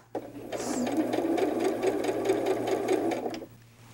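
A sewing machine stitches around the body of a fabric bunny doll with a quarter-inch seam, running in a quick, steady whirring burst of about three seconds close by.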